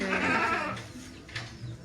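A goat bleats once, close and fairly loud, at the start, then fades into quieter background noise.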